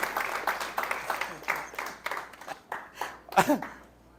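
A church congregation gives applause during a Christian sermon service. The clapping is scattered and fairly soft, with uneven claps from a scattered crowd, and a voice rises briefly near the end.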